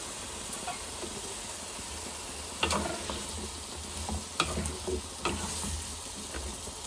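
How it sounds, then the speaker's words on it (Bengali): Cauliflower florets sauté in hot oil in a pan for a rui fish curry, a steady close sizzle with occasional sharp stirring scrapes. "ফুলকপিটা একটু কষা কষা হোক, তারপরে ফিরে আসতেছি।"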